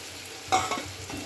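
Mustard and poppy seed paste being stirred into a Bengali pabda fish curry, with a short burst of spoon scraping and soft sizzle midway through a quiet, close stretch.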